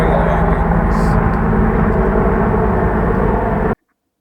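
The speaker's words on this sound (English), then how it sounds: "now a helicopter is going over" A helicopter flies overhead, making a loud, steady rumbling wash of rotor and engine noise that holds for nearly four seconds and then cuts off abruptly into silence.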